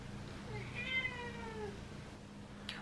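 A cat gives one drawn-out meow that rises and then falls, heard clearly over a steady low hum, followed by a brief click near the end.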